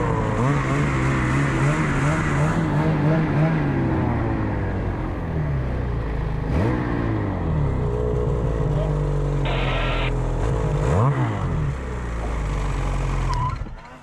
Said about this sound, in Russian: Запускаешь мотор и снегоход едет.